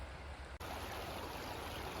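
Swift, silty glacial river in the Saskatchewan Glacier basin off the Icefields Parkway in the Rockies, a steady broadband rush of flowing water close by, loud and continuous with a brief dip early on.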